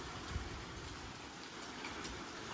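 Steady, dense rain hisses across the whole stretch with a soft low thud near the start, no voices present.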